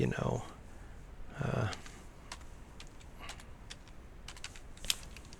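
Keys on a computer keyboard click in quick irregular bursts as a barcode label name is typed, close and crisp, with a brief voice or breath at the start.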